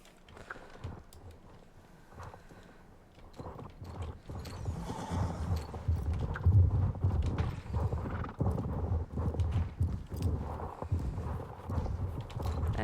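Horses' hooves clip-clop at a walk in the online horse-riding game Star Stable Online, a steady uneven patter of several hooves with an occasional whinny, fairly close and continuous.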